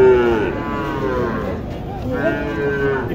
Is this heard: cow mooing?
yes